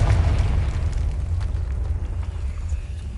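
A Confringo blast spell goes off in Hogwarts Legacy, a loud, deep rumbling explosion that starts at full force and slowly rolls on and settles, with no voices heard.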